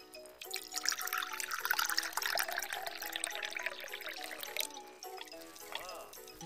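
Warm water runs from a tap or is poured into a cup for a baking soda mixture, a steady close splashing trickle that starts abruptly and fades near the end.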